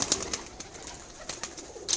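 Pigeons at a breeder's loft make faint, scattered cooing with a few soft flutters and clicks over a quiet background, the calls coming in short bursts rather than a steady run.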